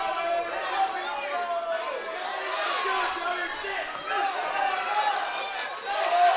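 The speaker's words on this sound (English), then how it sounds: "Crowd getting into it now." Crowd at a high school wrestling match, a loose wash of chatter and yelling spectators in an indoor gym, fairly steady with swells, voices throughout.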